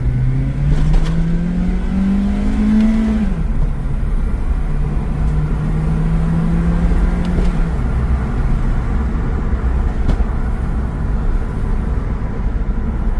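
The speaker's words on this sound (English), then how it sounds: "So, let's see how fast this thing will shift" An Acura RSX fitted with paddle shifters accelerates steadily, its engine note climbing then dropping sharply at two quick upshifts, a continuous loud drone with road and wind noise throughout.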